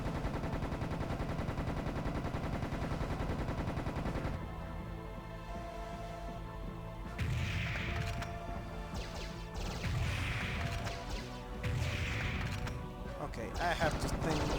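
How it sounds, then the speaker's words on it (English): A Thompson submachine gun rattles in Serious Sam Classics: Revolution, rapid bursts of fire cutting in repeatedly over a loud, busy game soundtrack and effects. "I'm gonna take care of the Zorg with the Thompson submachine gun"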